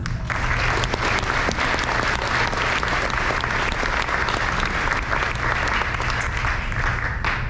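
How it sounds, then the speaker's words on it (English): An audience at a high school senior awards ceremony applauds the award nominees, a long, full, steady roar of many hands clapping that stays loud and even throughout. "let's give a round of applause to all of our nominees"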